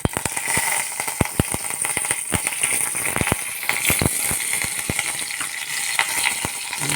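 Curry leaves sizzle in hot oil for a mung dal varan tempering, giving a loud, steady frying hiss packed with sharp, irregular crackles and pops close up, with no voices.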